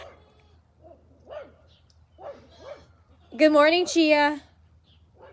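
A pet dog lets out a short burst of loud, close barks in the middle of a quiet indoor morning scene, following a few softer sounds, with a person speaking briefly beforehand.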